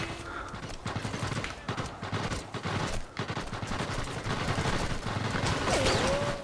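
Gunfire in the Sniper Elite VR video game, heard as a run of sharp shots and impacts at moderate volume over busy game ambience, with no speech.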